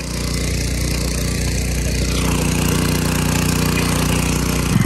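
A new gas outboard boat motor, a $300 eBay engine run below full throttle on the water, drones steadily and fairly loud throughout with a constant low hum and broadband wash, no talking.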